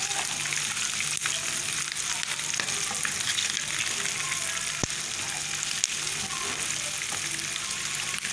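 Chicken feet fry in hot oil with a dense, even crackling sizzle that holds steady throughout, with occasional sharper pops and no voices.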